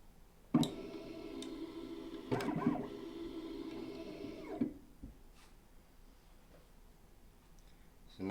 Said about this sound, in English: So now it's starting up the machine.